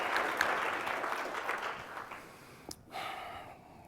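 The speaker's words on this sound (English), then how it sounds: "So if we can give them a round of applause," Audience applause after a corporate culture talk, a dense wash of clapping that gradually thins and fades, broken by a brief sharp sound near the end before a softer patter continues.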